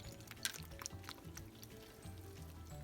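Water poured by hand into a no-knead bread mix, heard as a quiet trickle and a few drips at close range with a low background hum, without any talking.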